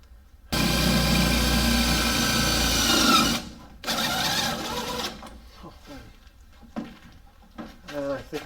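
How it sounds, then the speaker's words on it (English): A power drill bores holes for fender flares on a 1988-98 Chevy K1500 pickup, a loud, steady whine for about three seconds, then a shorter burst, followed by nearby people talking. "I think we drilled that in the wrong spot."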